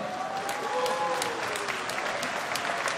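A crowd claps steadily and densely throughout at a Kashubian Unity Day public ceremony in Bojano, with the applause close and sustained and no break.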